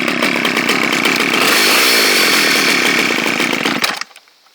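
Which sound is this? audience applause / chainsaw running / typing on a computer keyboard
chainsaw running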